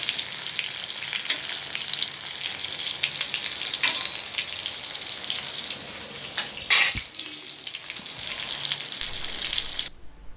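A whole fish fries in hot oil in a pan, giving a continuous bright sizzle with brief bursts of spattering and stirring, loud and close, before cutting off abruptly near the end.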